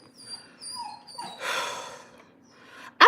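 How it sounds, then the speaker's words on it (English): A pet dog indoors gives soft whimpers and whines, then a sudden sharp yip at the end, close to the listener with no talking. "She barks."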